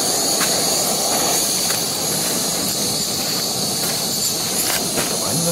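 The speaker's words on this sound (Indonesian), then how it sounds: "Bunyi gas. Bunyi gas dia." Gas hisses from a camping gas burner at night on a mountain, a loud, steady, continuous rush close by with faint knocks and clinks scattered through it and no talk.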